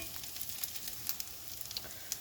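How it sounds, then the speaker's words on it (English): Steady sizzling of garlic frying in a pan, a continuous crackly hiss with small pops scattered throughout, close and moderately quiet. "we're just going to sizzle these up a little bit"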